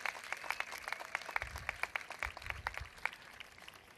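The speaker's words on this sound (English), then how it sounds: "Another round of applause for the Aiton School," Light, scattered clapping from an audience at the Washington Monument reopening ceremony, honoring Mrs. Norris's class from the Aiton School: sharp individual claps repeating unevenly over a faint outdoor background, fairly quiet and distant.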